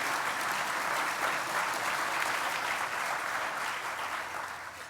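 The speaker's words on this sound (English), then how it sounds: "Give him a round of applause because it's working." An audience applauds a city official at a New York public event, a dense sustained round of clapping that holds steady before tapering slightly at the end.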